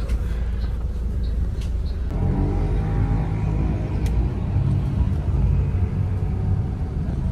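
Harapan Jaya first-class bus pulling out of the Pasar Rebo pool, heard from inside as a steady low engine rumble and road drone, continuous and fairly loud.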